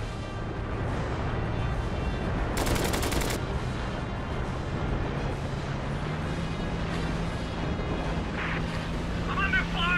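Gunfire from an air battle in a video game rattles in steady, dense bursts beneath a droning aircraft engine, with a loud crackling volley partway through and voices speaking over it.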